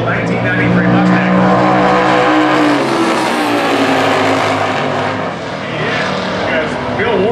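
A 2000 Suncoast Roadster with a 587-cubic-inch Chevy engine races down the drag strip in Super Gas eliminations, a loud sustained engine roar rising and shifting in pitch, with an announcer talking over it.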